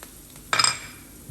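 Celery is stirred in a metal pan for stir-fried chicken with rice vermicelli, one quick bright clinking scrape of a utensil against the pan over a faint background hiss.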